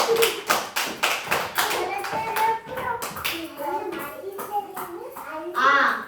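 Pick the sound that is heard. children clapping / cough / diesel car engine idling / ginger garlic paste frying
children clapping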